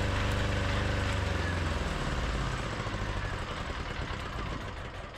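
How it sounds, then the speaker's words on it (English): A diesel generator running on rapeseed oil after a warm restart idles smoothly at steady RPM, its low, even throb close and loud, settling slightly quieter over the last seconds. "Now the engine starts directly and it finds its RPM and runs smoothly directly."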